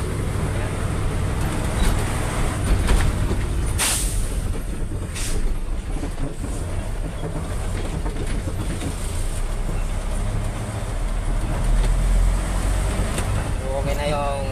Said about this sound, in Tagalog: Malakas ang galit ng makina dahil bagong kalibrate ang injection pump.